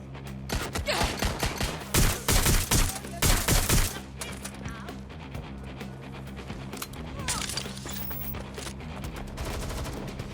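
Rapid bursts of gunfire in the video game Watch Dogs: Legion, a dense volley of sharp shots over about two seconds, then quieter scattered shots and background game sounds.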